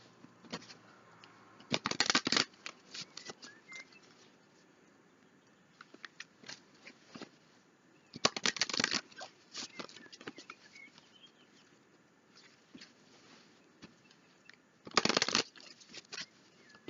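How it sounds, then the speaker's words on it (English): Oracle cards are shuffled by hand in a quiet room, with three loud, dense riffling bursts spread across the stretch and lighter taps and slides between them, close and with no talking. "a couple more shuffles"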